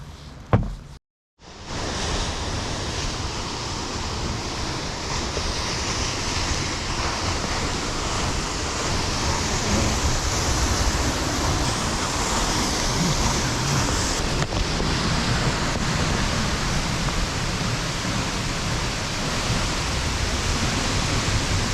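Steady, broadband roar of a waterfall in a canyon near Mount Hakusan, close and continuous after a brief dropout at the start, with no talking.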